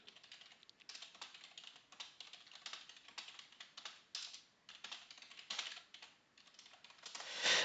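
Fast, irregular clicking of keys on a computer keyboard as a message is typed, close and fairly quiet, continuing in uneven bursts without any voices.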